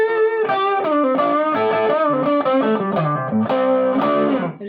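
An electric guitar runs through an MXR Custom Badass '78 Distortion pedal with the gain turned up, playing a loud, sustained run of distorted chords and notes with a compressed, buzzy tone and no talking.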